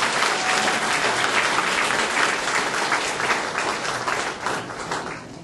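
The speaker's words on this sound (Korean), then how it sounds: "뜨거운 박수 부탁드리겠습니다" Warm, loud applause fills a hall at a provincial party New Year ceremony as the provincial governor is welcomed, a dense, continuous roar of many clapping hands and crowd noise that eases slightly at the end.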